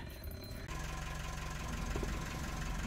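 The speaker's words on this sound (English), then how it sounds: "I'm just running the engine now to see if it's getting hot" A narrowboat's engine runs steadily with a low, knocking idle and mechanical vibration throughout, fairly close, with no talk.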